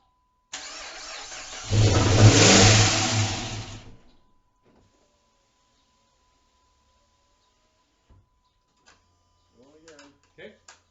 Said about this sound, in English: Start. Turns over.